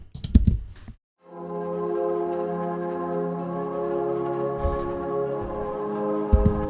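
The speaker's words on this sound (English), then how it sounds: "I've got 3 pad sounds in the intro to add a bit of a atmosphere to it." A few quick keyboard clicks lead into three layered synth pads in a Logic Pro orchestral intro, a smooth sustained atmospheric chord that holds steadily with soft tonal shimmer.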